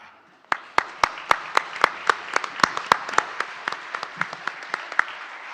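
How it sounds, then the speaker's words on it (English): A few people clap at a business outlook panel as a speaker is welcomed, individual sharp hand claps at a steady rhythm for several seconds, sparse rather than a full roar, with no voices. "you'll almost want to jump up and applaud immediately"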